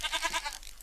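A goat in the video game Minecraft gives a short, wavering bleat, brief and moderately loud, with no talk.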